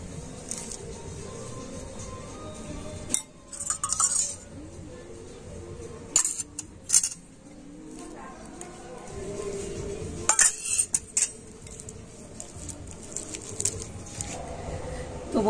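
Homemade henna paste stirred with a spoon in a bowl, soft scraping and squishing broken by a few sharp clinks of metal against the bowl, close and fairly quiet.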